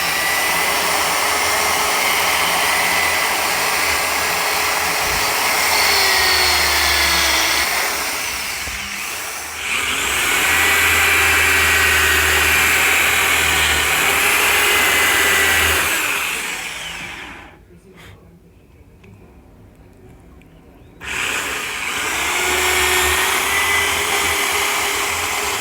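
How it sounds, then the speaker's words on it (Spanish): Drill with a bit grinding glue off an aluminium motor, a steady loud whine that dips and cuts out briefly before starting again near the end, with no talking. "el pegamento con una broca de 332. Se va deshaciendo el pegamento y teniendo cuidado de no maltratar mucho el aluminio"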